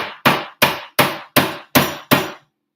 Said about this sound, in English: So I use my hammer to spread it like this.